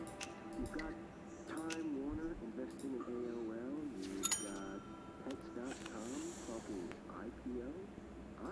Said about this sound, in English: Hit that bell, bro.